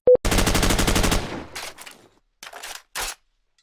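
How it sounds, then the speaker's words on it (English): M4 rifle reload effect from Call of Duty: Modern Warfare plays alone: a short click, a long rattling metallic sweep, then a few sharp snaps of the magazine and bolt, loud and close. "look no farther than the M4 reload from the original Modern Warfare"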